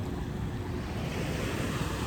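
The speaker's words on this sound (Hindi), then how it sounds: "यह प्रशांत महासागर की लहरें हैं।" Pacific Ocean waves wash onto Waikiki beach in Honolulu, Hawaii, in a continuous broad roar of surf, with wind buffeting the microphone throughout.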